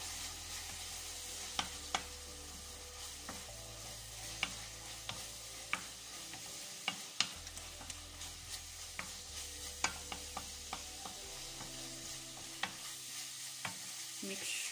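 Cabbage and beef being mixed with garlic powder, thyme and ginger powder in a pan: a steady low sizzle under irregular scraping clicks of a utensil, with no talking.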